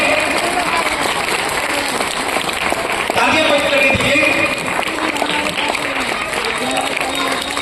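An audience claps and cheers at a Republic Day felicitation ceremony where guests receive garlands, with sustained loud applause filling the hall throughout.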